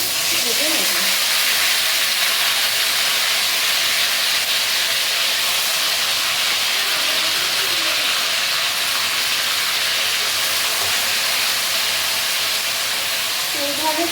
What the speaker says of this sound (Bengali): এইভাবে আমি এটা তেল ছাড়া অবধি হালকা হালকা করে ভেজে নেব মিডিয়াম ফ্লেমে